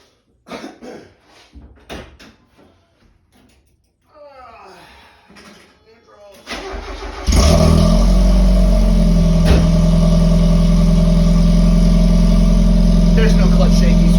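A 1990 Mazda Miata with a 1.6 long-nose-crank engine cranks over with sputtering attempts, then fires up and runs loudly at a rough, steady idle with some revving, close to the microphone.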